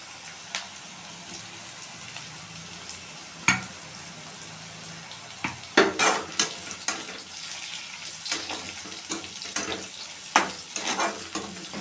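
Onions sautéing in a home kitchen pan for a beans and groundnut stir-fry, with soft frying sizzle and intermittent scraping stir strokes and clatters, no talking.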